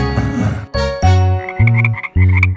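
Cartoon frog croak effect in a Vietnamese children's song: three loud, deep croaks in a row, each a buzzy throaty burst with bright tinkly accents over them, no voices.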